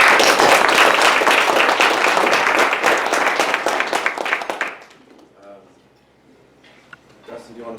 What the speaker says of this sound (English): I just wanted to give everybody a round of applause for what we've done so far.